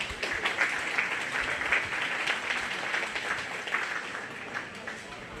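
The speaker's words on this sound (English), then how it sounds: "Let's give them a nice round of applause" Applause at the Greene County Fair livestock show ring for kids who showed commercial gilts, a steady dense clapping from a crowd lasting the whole stretch, with some voices murmuring underneath.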